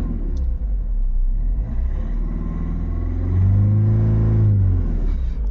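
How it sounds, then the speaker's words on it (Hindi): A Jeep Compass with a check-engine-light fault idles, then revs up loudly and settles, a close, deep engine rumble with one clear rise in pitch and volume. "इंजन को स्टार्ट किया मैंने, चेक लाइट अभी चली गई, लेकिन रेस करेंगे तो वापस आ जाती है।"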